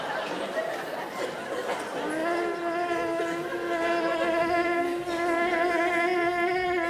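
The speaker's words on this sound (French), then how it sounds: "La mouche Ahmed." A fly buzzes with a steady, reedy drone that sets in after a couple of seconds and holds to the end, close and prominent over a soft murmur of background chatter.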